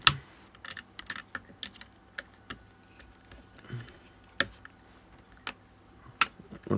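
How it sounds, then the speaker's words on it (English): Small wrench tightening the fuse bolts on an APC Smart-UPS 1500 battery pack: sparse, faint, sharp clicks and ticks in an otherwise quiet room. "so I'm going to tighten up the bolts for the fuse."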